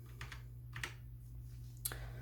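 Soft clicking keystrokes on an HP Pavilion 800 mechanical RGB gaming keyboard, a few scattered presses over a low steady hum, fairly quiet with no speech.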